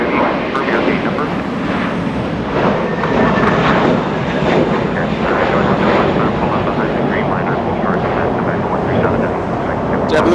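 A JetBlue airliner at Los Angeles International Airport gives a steady, loud engine roar that fills the whole stretch, with a voice talking over it.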